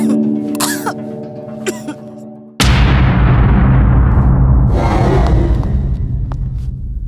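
A woman coughs and clears her throat a few times in a Telugu film scene, then a sudden loud booming burst and a sustained roar swamp the sound.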